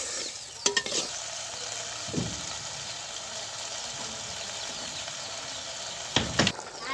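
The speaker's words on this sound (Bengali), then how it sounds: "এভাবে নেড়ে চেড়ে কিছুক্ষণ কষিয়ে নেব সিদ্ধ হওয়া পর্যন্ত এভাবে কষিয়ে নিতে হবে" Big fish curry fries in a pot at an outdoor picnic cook-up, giving a steady soft sizzle broken by a few distinct scraping stirs near the start and again near the end.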